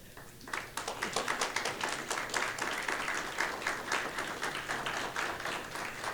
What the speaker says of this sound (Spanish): Les invito a que lo recibamos con un fuerte aplauso